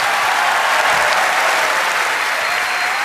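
Applause from a large studio audience for a singer, a steady dense roar of clapping that stays loud and even throughout.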